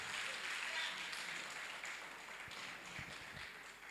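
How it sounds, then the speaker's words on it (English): Dense, steady audience applause fills a seminar hall at a South African teachers' union principals' meeting in the Free State, holding at an even level for the whole stretch before easing slightly. "Another round of applause, comrades, for the principal."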